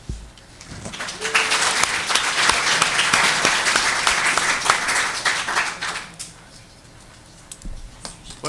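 A school committee meeting audience applauds a recognized girls' team player, with dense clapping that swells after a second, holds for about five seconds, then thins out and fades.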